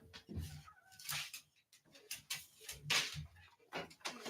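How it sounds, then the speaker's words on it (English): A cat meows and yowls several times in short, irregular bursts, moderately close, with some faint background noise between calls. "My kitty is getting warmed up. You can hear him talking over there."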